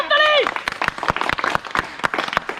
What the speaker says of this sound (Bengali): ফার্স্ট প্রাইজ তুলে দাও, হাততালি হাততালি হাততালি।